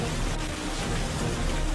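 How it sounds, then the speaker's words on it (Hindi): Heavy monsoon rain pours steadily in Lahore, a dense, unbroken hiss of falling water with no pauses and no voices. "मानसून की बारिशों का सिलसिला जारी"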